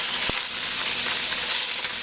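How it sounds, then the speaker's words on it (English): Steady, hissing sizzle of food frying in a hot Yosukata pre-seasoned carbon steel wok, continuous and fairly loud, with a brief sharp click near the start. "the first time I've ever put any food inside a pan where I have the nice sizzle because it's hot"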